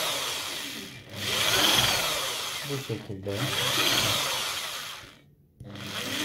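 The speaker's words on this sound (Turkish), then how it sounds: "kabağımızın şöyle delme işlemlerini bitirdik." A power drill whines in bursts as it bores holes through a dried gourd being made into a lamp, with short pauses between holes and a brief spoken remark.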